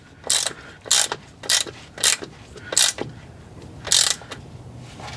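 Ratchet wrench tightening the transfer case fill plug on a Jeep Wrangler, five or six sharp ratcheting bursts in an uneven rhythm, loud and close with no talking.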